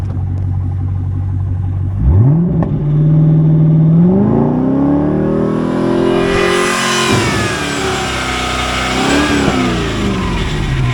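A 1999 Chevrolet Corvette C5 with an LS1 V8 idles, then revs hard with throttle blips, its deep rumble climbing and falling close by with no talking.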